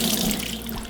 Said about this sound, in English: I'm gonna just take the water that's in here now and drain them out in the sink.